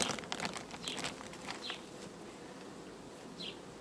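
Honeybees of a crowded colony, a swarm back in its original hive, hum in a steady, close buzz, with scattered individual bees zipping past.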